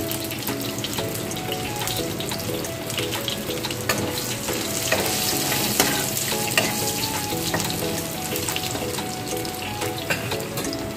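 Sweet potato pieces frying in a pan with salt, the first vegetable going into a Bengali fish ambol: a steady, close sizzle with stirring and scraping throughout, no talking.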